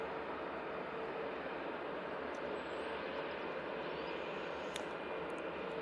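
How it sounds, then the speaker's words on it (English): Ryanair Boeing 737-800 on short final into Manchester from Valencia, a steady broadband engine roar held at an even, moderate level for the whole stretch with no talk over it. "737-800 coming in from Valencia."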